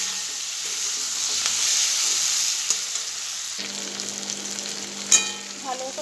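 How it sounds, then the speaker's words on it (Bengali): Eggs fry in a pan over a low flame for egg chili, a steady close hiss of sizzling oil with occasional stirring scrapes and a brief clink near the end. "একদম লো ফ্লেমে রেখে ভালো করে কষিয়ে নেব।"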